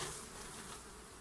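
Honeybees buzz loudly and continuously as a beekeeper shakes a frame of bees into an upturned hive roof, a dense close swarm drone with no pauses.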